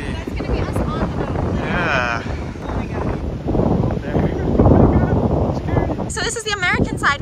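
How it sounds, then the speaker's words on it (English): Strong wind at Niagara Falls buffeting the microphone with a roaring rumble, voices talking over it throughout, and a brief high burst near the end. "It's crazy, it's so windy."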